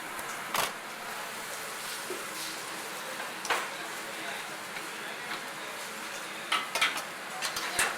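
Coconut milk is stirred into red curry paste in a hot wok for red curry duck, a low simmering sizzle broken by several spatula scrapes and knocks, nearby and without speech.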